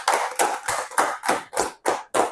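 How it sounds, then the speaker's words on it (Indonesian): Classroom applause for a student group, a few people clapping in an even rhythm of about eight sharp claps, close and loud with no talking. "berikan aplaus untuk kelompok 1"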